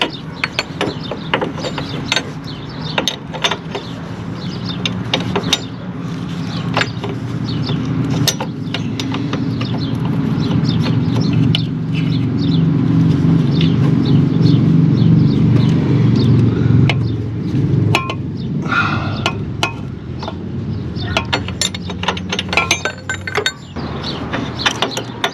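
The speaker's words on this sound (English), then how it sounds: "Now we can break this other one loose with the right wrench." A wrench works loose a bolt on the rack and pinion of a 2005 Mercury Sable, giving repeated ratcheting clicks and metallic clinks up close, with a sustained mechanical hum through the middle stretch.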